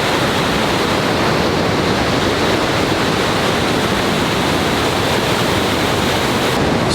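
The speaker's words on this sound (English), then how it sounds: "So I know that's just water coming out of an underground tube, a lava tube." Water rushes out of an underground lava tube along the Rogue River in Oregon, a loud, continuous roar of churning flow that stays steady and unbroken.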